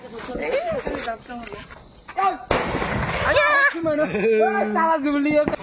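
Diwali firecrackers set off at a village celebration, with one loud sharp bang amid several voices chatting and laughing nearby.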